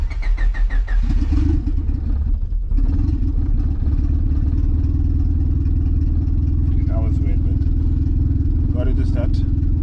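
A cold turbocharged Honda car engine cranks and fires, then settles into a steady, loud idle close by, with someone talking briefly over it.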